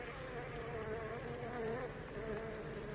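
Honey bees swarm around a hive box holding a caged queen during a colony split, making a dense, steady buzz that stays close and loud for the whole stretch.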